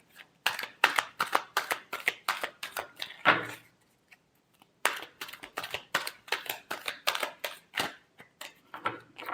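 Tarot cards being shuffled by hand in rapid riffling bursts of crisp flutters, close and clear, with a brief pause midway before the shuffling resumes.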